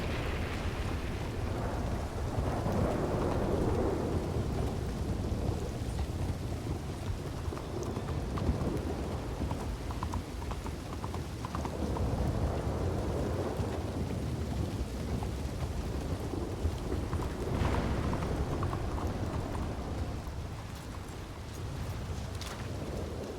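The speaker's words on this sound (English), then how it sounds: "Fucking rain." Steady rain and rolling thunder in a Red Dead roleplay video game, a continuous wash of rainfall with swelling low rumbles throughout, no talk over it.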